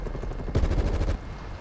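Burst of rapid gunfire in a Call of Duty Black Ops Cold War team deathmatch on Nuketown, a loud, dense volley lasting about half a second amid game background noise.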